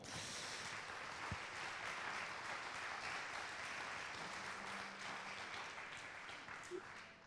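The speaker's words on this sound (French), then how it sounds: "Je voudrais d'abord que vous applaudissiez et remerciez nos 5 intervenants." An audience applauds at a farmers' university talk, a steady wash of many hands clapping that stays fairly even and distant throughout, with a few faint thuds and murmurs beneath.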